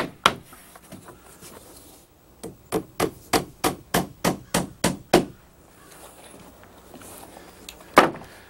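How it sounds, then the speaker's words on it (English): Stainless steel nails are driven into wooden door trim on a gazebo, a single blow, then a steady run of about a dozen sharp, evenly spaced hammer strikes, then one final hit after a pause. "All the pieces will be secured with some stainless steel nails."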